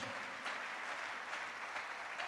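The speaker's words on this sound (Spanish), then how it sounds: "Dele un aplauso a Jesucristo" A church congregation claps after a prayer at a sermon, a faint, even wash of applause that continues throughout without talk.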